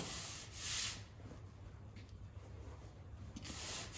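Body filler on a car panel is sanded by hand with steady, gritty rubbing strokes, close but faint, with a few louder scrapes at the start and near the end and no talking.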